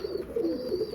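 Cooing from a flock of Dubwly breeder pigeons in Faisalabad, soft repeated low coos running steadily through the second with a faint high tone behind them.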